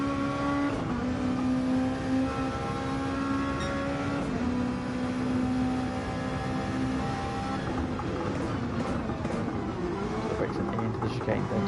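Race cars in a sim racing game drone past with steady, high engine tones that shift pitch through gear changes, while a commentator talks continuously over the noise.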